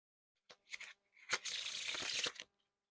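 A deck of Red Bicycle House Blend playing cards is spread into a wide fan of faces, giving a few soft, close papery riffles and a longer crisp sweep of the cards sliding across one another, quiet and alone.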